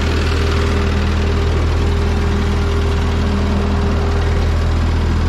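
A vehicle engine runs loud and steady with a low droning hum while driving along potato rows, wheels kept in the grooves to cover potatoes; no talk over it.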